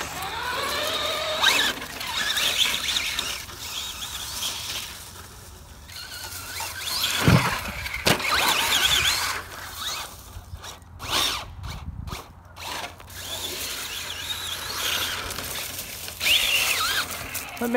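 Traxxas Slash 4x4 VXL brushless RC car fitted with crawler tires, wheels spinning up in a whining, squealing buzz like a power tool, rising and falling in bursts with a few sharp pauses, loud and close.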